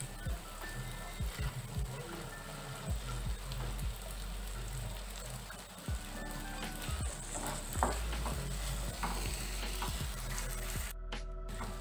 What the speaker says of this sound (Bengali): মশলার সঙ্গে ডাল ভালো করে ভেজে নিয়েছি